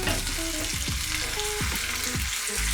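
Steak searing in a buttered hot pan, a dense, loud, continuous sizzle up close with occasional low thumps and shifting tones as the meat is handled.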